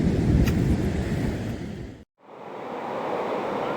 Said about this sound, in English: You get the impression that the wind is pretty strong around here.